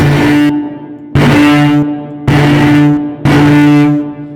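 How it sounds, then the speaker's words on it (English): A loud, buzzing distorted tone repeats in four sustained bursts, each cutting off abruptly, the gritty overdrive growing harsher and thicker across the repetitions as automated distortion increases from zero. "I started with zero distortion and then would automate the distortion"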